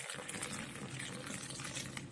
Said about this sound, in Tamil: கொஞ்சம் மேல தூக்கியே ஊத்துங்க, அப்பதான் நல்ல நிறைய வரும்